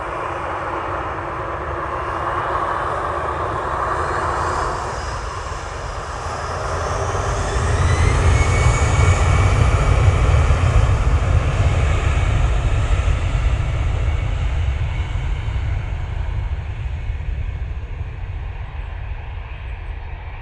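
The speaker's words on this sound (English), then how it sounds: "Aer Lingus coming down Tango." An Aer Lingus airliner taxiing at Manchester Airport, its jet engines a loud, steady roar with a rumbling low end that swells midway and then holds, with no voices.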